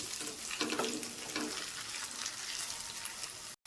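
Masala for fish biryani fries in a pan with a quiet, steady sizzle and occasional stirring scrapes, broken by a brief dropout near the end.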